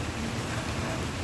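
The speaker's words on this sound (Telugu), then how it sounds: "ఒక్కసారిగా వర్షం పడితే ఈ వేడిలో నుంచి చల్లదనంలోకి అడుగు పెట్టినట్టుంది" Rain falls on trees as a steady, even hiss of drops on leaves, with no other sounds over the short stretch.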